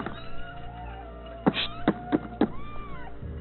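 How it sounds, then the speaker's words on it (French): High, thin kitten meows play from a small box on a Paris street, several short mewing cries in a quick cluster amid quiet outdoor background noise and faint distant sounds. "dans cette petite boîte qui va émettre bruit de chaton"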